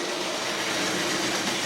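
A die-cast 00 gauge 3-rail model locomotive, an old engine, runs with two old 00 coaches, giving a steady close rolling rumble and clatter of wheels on track throughout, with no talk.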